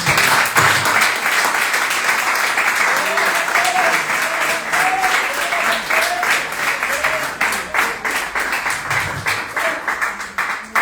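A church congregation claps for the Lord at an evening service, loud and rhythmic clapping with voices singing or calling over it throughout.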